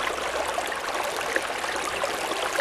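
River water flows steadily around a gold-sluicing setup, a constant close rush and gurgle with no pauses and no voices.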